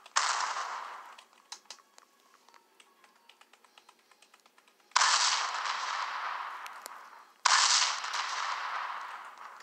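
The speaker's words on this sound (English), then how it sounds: "Oh crap, someone's shooting me!" Gunfire rings out in a battle royale video game as loud, dense bursts of shots with decaying tails, separated by a stretch of rapid keyboard-like tapping.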